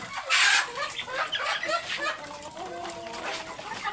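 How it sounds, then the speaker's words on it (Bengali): Native hens clucking while they eat feed on a poultry farm, a busy run of short, close, overlapping clucks and calls throughout. "দেশি মুরগি দেখেন কীভাবে খাচ্ছে"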